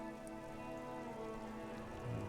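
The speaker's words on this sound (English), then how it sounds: "All around you, rain falls on the great city of Revachol. Rain drips from the eaves and floods the gutters" Rain falling over the city of Revachol in Disco Elysium, dripping from eaves and flooding gutters, a soft steady hiss with a faint low hum beneath it, quiet and continuous with no voices.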